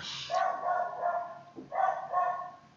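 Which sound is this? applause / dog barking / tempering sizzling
dog barking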